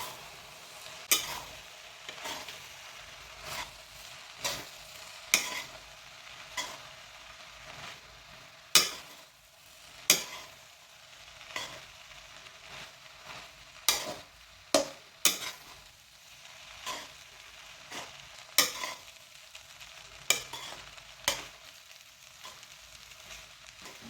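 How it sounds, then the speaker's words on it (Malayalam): Chopped pieces from ten parottas are stirred in a hot pan for Trivandrum-style kothu parotta. A soft continuous sizzle sits under sharp, irregular spatula knocks that come every second or two throughout. "ഇനി ഇത് പുറത്ത് കളയാതെ ഒന്ന് നന്നായിട്ടൊന്ന് ഇളക്കിയെടുക്കാം."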